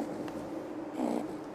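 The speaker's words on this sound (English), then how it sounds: "is Baby Yoda purring at one point?" Baby Yoda from The Mandalorian purring in a soft, continuous, low rumble that swells briefly near the end, close and alone without speech.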